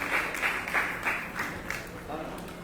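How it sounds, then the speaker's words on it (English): A crowd at a Sri Bhagavata-saptaha religious gathering claps in thanks for the volunteers. The applause is a dense, continuous patter with swelling pulses that fades slightly toward the end. "Give a big round of applause for them."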